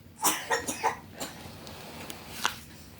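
A child coughs nearby during a grade 7 maths exam lesson, a quick cluster of four harsh coughs followed by two fainter ones, with no talk over them.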